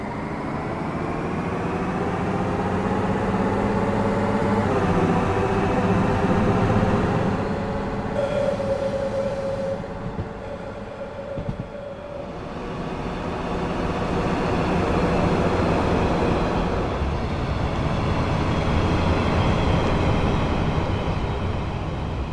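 Train in Train Sim World 4 rolling along the track through Germany, a continuous loud rumble of wheels and motor with a brief high whine in the middle, steady throughout with no voices.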